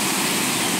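Water rushes loudly and steadily at a deep, dangerous-looking swimming spot, a dense broadband roar filling the whole moment with no break.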